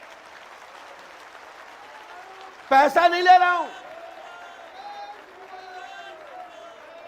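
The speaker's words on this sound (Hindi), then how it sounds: "ये भाइयों ताली बजाओगे वो मेरी ताकत है" An audience at a religious darbar gathering in Bhopal bursts into brief, loud clapping that lasts about a second before fading under a man's continued speech.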